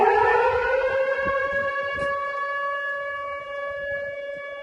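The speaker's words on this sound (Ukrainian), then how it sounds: "Повітряна тривога." An air raid siren sounds in the town of Mezhova, a loud, sustained wail with steady tones and no speech over it.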